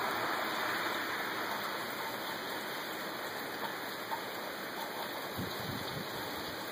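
Heavy May rain pours down during a storm, a dense, continuous hiss of falling water that holds steady throughout, with a couple of faint low thuds near the end.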